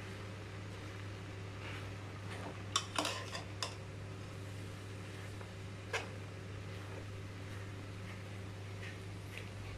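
Bopis being stirred in a pan, with a handful of sharp utensil clinks and scrapes against the pan over a steady low hum, close by, with no talking.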